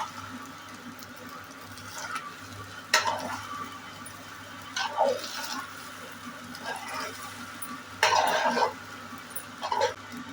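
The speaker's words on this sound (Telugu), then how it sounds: "ఇప్పుడు ముందుగా ఉడకబెట్టుకున్న అన్నం వేసుకొని కలుపుకోవాలి." Pre-boiled rice mixed into corn fried rice in a pan with ginger garlic paste, quiet steady sizzle under several short spoon scrapes and stirring bursts, close by.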